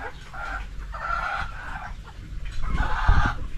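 Decaled White chickens clucking nearby in short bursts, with a louder, more excited squawk near the end over faint low background noise.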